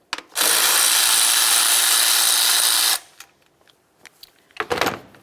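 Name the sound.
removing 10mm nuts from Toyota RAV4 plastic engine cover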